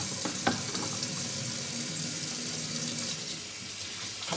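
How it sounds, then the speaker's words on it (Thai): Tap water runs steadily at a sink while hands are washed, a continuous splashing wash with a few small clatters, fairly close and with no talking. "ให้ดูแบบที่ล้างมือหน่อย"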